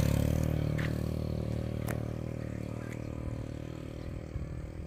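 Motorcycle riding on a steep, extreme hillside village road in mountainous country: a steady, close engine drone with faint clatter and a few light scrapes.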